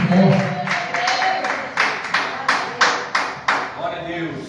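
Church congregation claps in a steady rhythm to welcome the pastor, sharp regular hand claps roughly every third of a second over a murmur of voices in a reverberant hall.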